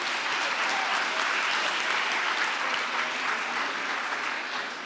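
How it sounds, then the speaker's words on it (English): Sustained applause from an audience at an evening pitch competition, a dense steady roar of many hands clapping throughout, tapering slightly at the end. "Let's give them another round of applause."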